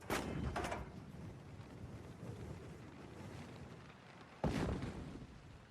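Two loud booms of an artillery gun firing, one at the very start and another near the end, each with a long rumbling decay over a dense, noisy background.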